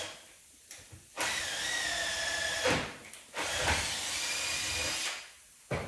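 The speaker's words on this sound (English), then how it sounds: "and then just run the tap all the way in" A thread tap being run into a starter nut on a junior dragster flywheel, heard as three sustained mechanical whirring bursts, close and moderately loud, each ending in a brief pause.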